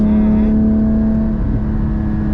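A Porsche GT4 with a manual gearbox and its engine behind the cabin drones steadily while driving, heard from inside at a constant pitch with a slight shift partway through and no talk.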